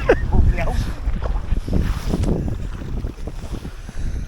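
Wind gusts roar and buffet the microphone while kayaking on Llyn Gwynant in North Wales, with steady rumbling noise and faint water sloshing against the boat throughout.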